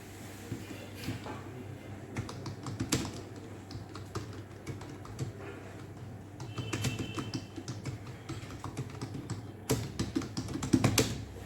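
Typing on a computer keyboard while working in MS Word 2007, irregular clusters of close, light key clicks with short pauses between bursts.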